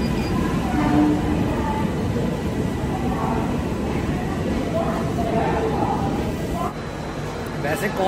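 Coromandel Express hauled by an Arakkonam WAP-4 electric locomotive pulling out of Visakhapatnam railway station, a steady rumbling roll of wheels and carriages with faint tonal whines, with someone talking over it throughout.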